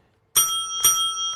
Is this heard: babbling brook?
no